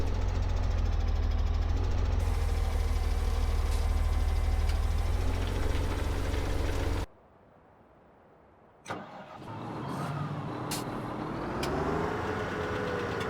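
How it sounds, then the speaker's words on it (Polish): A JCB tractor engine in Farming Simulator 17 drones loudly and steadily while driving to the field, drops to near silence for about two seconds, then returns with a restart and a continuous running rumble. "A ja wsiadam do ciągnika JCB no i jadę tam na pole"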